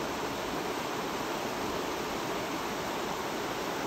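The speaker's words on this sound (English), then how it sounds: "so you can get the feeling of the water coming over the rocks" Water from the Haw River pours over rocks in a steady, broadband rush that holds at an even level with no pauses and no voices.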